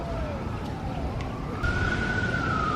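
Wailing emergency vehicle sirens on a New York City street near the edge of a park, a rising and gliding tone that grows louder, over steady traffic and city background noise.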